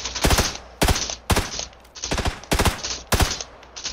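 Gunfire in the video game PUBG: a string of sharp, loud shots fired in quick bursts of two or three, spaced roughly half a second apart, with no one talking over them.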